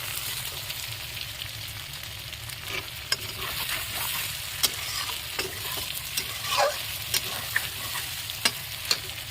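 Large prawns fry in oil with a thick spice masala, giving a steady close sizzle with scraping stirs and occasional sharp clicks of a utensil against the pan.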